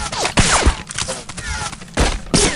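Short bursts of turret gunfire in the first-person shooter Heart of Evil, loud and close, arriving in a few separate volleys with brief gaps.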